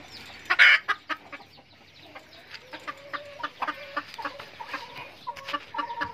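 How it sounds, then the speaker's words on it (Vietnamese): A domesticated red junglefowl hen kept in a backyard pen gives soft, irregular clucks close by, with one sharper call near the start and the quiet murmurs continuing throughout. "Đây, con gà mái mồi mình."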